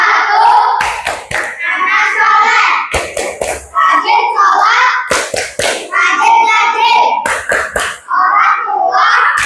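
An Indonesian primary school class performs a rhythmic clapping chant, with bursts of sharp unison hand claps in patterned beats alternating with children chanting together loudly in a classroom.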